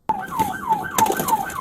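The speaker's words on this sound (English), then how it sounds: "automatically shut the siren off" An LAPD police car siren wails close and loud in a fast, rising-and-falling yelp that repeats roughly every third of a second without a break.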